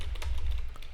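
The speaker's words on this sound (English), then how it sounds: "I'm typing in the command W and I hit enter" A few quick taps on a computer keyboard as a short command is typed for a websocket dev server, light clicks riding over a steady low hum.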